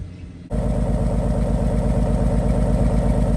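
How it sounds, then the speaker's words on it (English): A BMW M4 F82 idles while misfiring on cylinder 5. After a short quiet start, it kicks in with a loud, steady, close-up burble and an uneven pulsing beat. "misfiring on cylinder 5"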